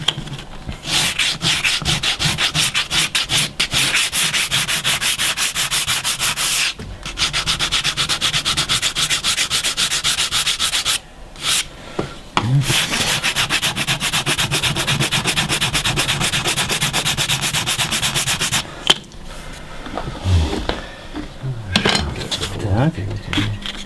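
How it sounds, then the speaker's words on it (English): Coarse 80-grit sandpaper rubbed back and forth on wood in steady, rapid rasping strokes, close and continuous with a couple of brief pauses, a little clatter near the end. "he's using a very coarse sandpaper, maybe a number 100 or something like that. 80. It's actually a number 80."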